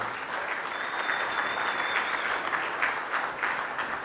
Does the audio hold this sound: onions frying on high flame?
no